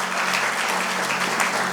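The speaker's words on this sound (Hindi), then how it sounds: "ताली बजाइए प्रभु के लिए" A church congregation at a Hindi-language Christian gathering claps together in praise, a continuous wash of hand claps filling the room at a steady, even level.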